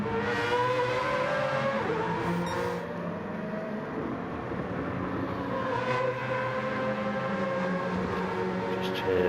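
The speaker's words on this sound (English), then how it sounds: "Just hear the Mazda." A Mazda race car's Wankel rotary engine drones steadily with a buzzy, high-pitched whine, its pitch gently rising and falling as it runs.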